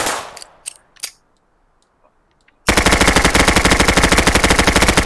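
Video game gunfire in a raider fight: a few scattered single shots early on, a quiet gap, then a loud sustained burst of rapid automatic fire with an even, fast rhythm filling the second half.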